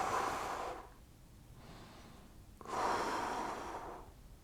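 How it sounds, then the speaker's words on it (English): Deep, slow breathing during a floor stretching routine: two long, audible exhalations, each about a second or more, separated by a quieter pause, close and fairly soft with no talking. "A couple more breaths."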